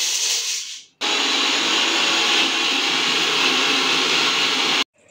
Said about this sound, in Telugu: అల్లము, ఎల్లుల్లిపాయ, ఉల్లిపాయ, పచ్చిమిరపకాయలు మిక్సీ కొట్టుకుంటాం